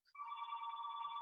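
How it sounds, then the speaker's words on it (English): A telephone rings steadily in a meeting room during a village trustees' meeting, a continuous electronic bell tone holding for over a second after a brief chirp, fairly faint with no talk over it. "The phone's ringing here."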